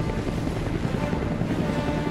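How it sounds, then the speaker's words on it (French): A helicopter in the film Mission: Impossible – Fallout produces a steady, loud, throbbing rotor drone that fills the whole moment without a break. "Il monte dans un hélico."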